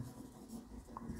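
Marker or chalk writing on a board during a Hindi biology lecture, with short soft scratchy strokes, close and quiet.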